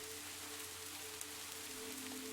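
Soft rain falling on a window pane, a faint, even patter spread across the whole stretch with a low steady hum beneath and one tiny tap midway.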